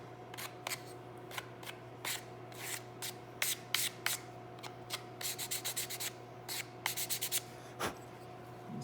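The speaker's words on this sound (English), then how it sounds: "I'll take a piece of paper and just break these corners a little bit." Paper rubbed briskly over the corners of a wooden patch box on a colonial kit rifle, giving short scratchy strokes in uneven bursts, quickening into rapid repeated rubs, close and fairly quiet over a steady hum.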